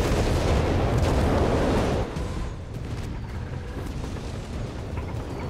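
Heavy tank gunfire and shell impacts in Company of Heroes 3, with Panzer guns pounding a Sturmpanzer, form a loud, dense rumble of booms that eases after about two seconds into a continuous battle din, with no talk.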